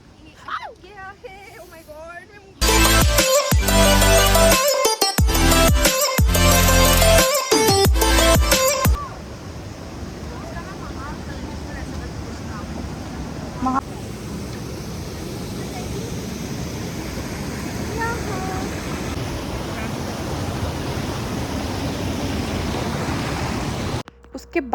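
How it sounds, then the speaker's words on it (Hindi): Steady broadband rush of a waterfall near McLeodganj, flowing water roaring continuously for most of the stretch, preceded by a few seconds of loud music and some talk at the start. "मैं आपको वो वाटरफॉल दिखाती हूँ जो बहुत खूबसूरत था"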